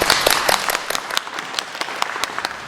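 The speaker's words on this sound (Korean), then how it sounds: "말씀 전해주시기 전에 또 박수로 환영을 해주시기 바랍니다" Applause from a church congregation welcoming a guest preacher, many hands clapping densely and steadily in a room, fairly loud and continuous throughout.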